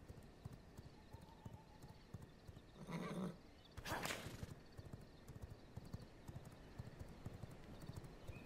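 Horse hooves clip-clop steadily in the vampire survival video game V Rising, a quick even trot of soft clicks throughout, interrupted midway by a loud horse neigh and snorting burst, all fairly quiet.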